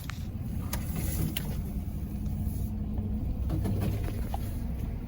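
A pickup truck engine rumbles low and steady nearby, a continuous idle with some rattling mechanical noise over it.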